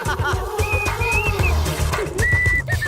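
A man whistles through his mouth in a Hindi-dubbed comedy scene, producing a few thin sustained tones over busy background music and effects, with a brief pause before a final higher whistle.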